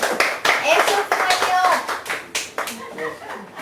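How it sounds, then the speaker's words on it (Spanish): A class applauds during a history lesson, giving a few seconds of steady, fairly close clapping from a group with voices talking over it. "Un aplauso para Edward."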